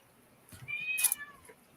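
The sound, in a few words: cat meowing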